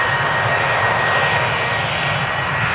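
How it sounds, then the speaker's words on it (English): A KLM Boeing 737 bound for Bucharest taking off at Amsterdam Schiphol Airport, its jet engines producing a loud, steady roar that holds at an even level throughout, with no voices. "KLM 737 to Bucharest, the next airplane to take off."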